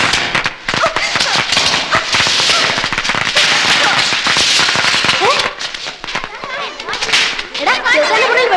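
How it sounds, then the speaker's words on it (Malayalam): Firecrackers bursting indoors in a room during a Malayalam film scene: a loud, dense barrage of sharp cracks and pops running almost continuously, with a voice briefly audible among the bursts. "ആരാടാ എന്റെ മുറി പടക്കം പൊട്ടിച്ചത്?"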